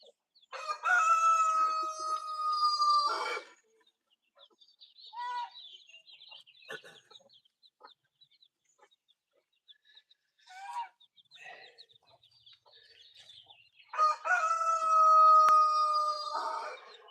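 In a backyard chicken coop a rooster crows twice, loud and close, once at the start and again near the end. In between, hens cluck softly and intermittently, with scattered small bird calls.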